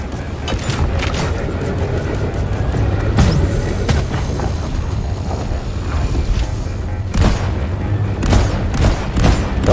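Gunfire at a Crassus detonator in the video game Deep Rock Galactic: dense rapid shots and heavy booms throughout, with low rumbling and scattered impacts.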